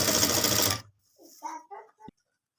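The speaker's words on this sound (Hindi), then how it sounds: "डबल फोल्ड करके यहाँ पे सिलाई लगा देनी है।" A sewing machine runs a steady burst of stitching along the double-folded edge of a fancy dupatta at a tailor's bench, stopping abruptly after under a second, followed by brief quiet handling noises and a short knock.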